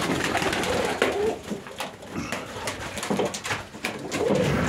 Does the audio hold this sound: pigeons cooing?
yes